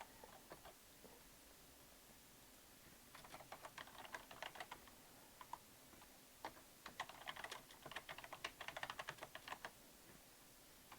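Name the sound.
typing on a computer keyboard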